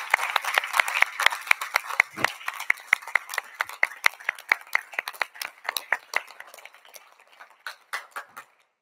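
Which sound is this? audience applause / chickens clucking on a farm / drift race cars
audience applause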